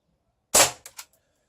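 An airsoft pistol fired at a cheap action camera clone: one sharp close crack followed by two quick fainter ticks.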